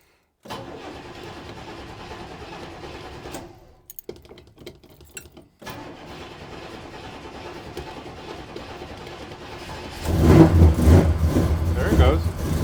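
A 1937 Chevrolet hotrod engine, started cold with no choke, catches near the end and roars into a loud, rough idle after a stretch of quieter background noise.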